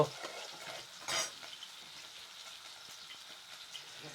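Green chilies fry in a pan with a soft, continuous sizzle, and one brief scraping stir stands out near the start.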